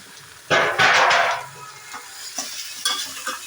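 A 1.25 kg surmai fish, an oily fish, goes into hot oil in a large pot: a loud sizzling burst lasting about a second, then a quieter crackle with a few faint clicks.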